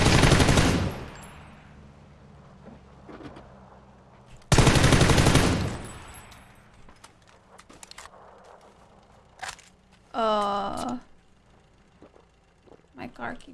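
Gunfire from a video game comes in two loud automatic bursts, each around a second long, separated by quieter stretches with scattered clicks, and a short voice sound follows later.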